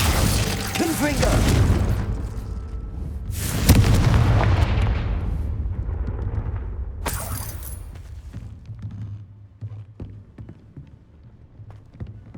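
Spell-blast explosions from the Confringo curse in the Hogwarts Legacy video game, with loud booming bursts near the start, at about four seconds and around seven seconds, each trailing off into rumbling debris and crackles.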